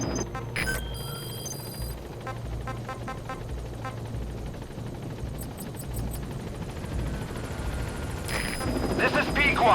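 A support helicopter arrives at the landing zone in Metal Gear Solid V: The Phantom Pain, its steady rotor drone running throughout alongside game effects and intermittent radio voices, growing slightly louder near the end.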